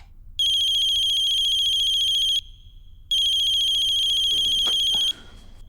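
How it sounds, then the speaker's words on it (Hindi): A mobile phone rings with a bright electronic tone in two long bursts separated by a short pause, loud and close, with no talking. "साजन के फोन में संजना मैडम का कॉल आ रहा है"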